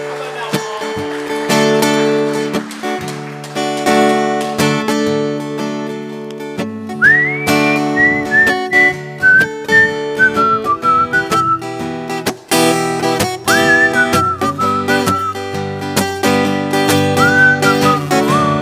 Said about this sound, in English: How's your whistle?